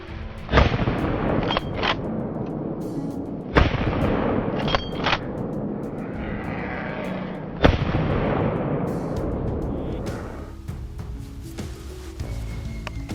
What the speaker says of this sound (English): The gunfire startled the rest, sending them scattering